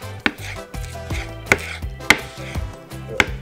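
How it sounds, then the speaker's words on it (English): A knife chops green onion tops into small pieces on a board, with several crisp, fairly regular strikes close by over soft background music. "Now we got some onions. Basically, you just want the green part. Just want to cut it into small pieces"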